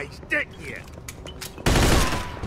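Gunfire in the Mafia II video game, a sudden loud burst of shots near the end after a stretch of quieter game sounds, with someone talking in the background.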